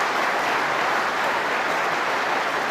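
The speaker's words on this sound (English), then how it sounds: "Applause from the other side" Applause from the crowd at a snooker World Championship quarter-final fills the hall, a dense, steady clapping that holds evenly with no voices over it.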